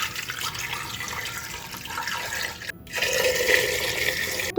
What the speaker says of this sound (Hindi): इसमें हम डालने वाले हैं पानी।